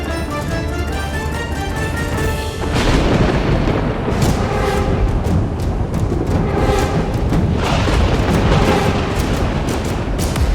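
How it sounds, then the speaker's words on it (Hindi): A violent storm with torrential rain and fierce wind bursts in: a quieter rumble gives way to a sudden loud, dense roar with cracking thunder-like booms that stays heavy to the end, no talk. "ये भीषण आंधी, ये मूसलाधार वर्षा"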